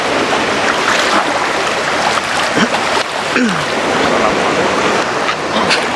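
Ocean surf rolls onto the beach at Asem Doyong in Pemalang, Central Java, a loud continuous wash of breaking waves close by, with wind noise mixed in and no talking.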